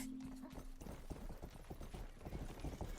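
Horse hooves clip-clopping in the video game Rustler, a fast, even run of close hoofbeats with no talk over it.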